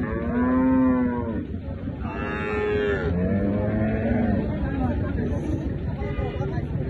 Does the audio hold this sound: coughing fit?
no